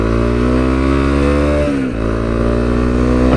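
A 2017 Honda CRF250L with a Q4 exhaust runs loud and close: a steady rumbling engine note that dips briefly and then rises again as the throttle is revved, with no voices.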